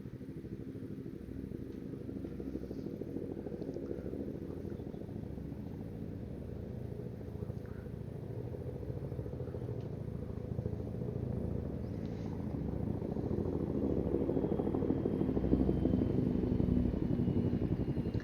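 Military jet aircraft taking off from runway 4 right at a Marine air station, a steady low engine roar that builds and grows louder toward the end, heard from a distance with no talk.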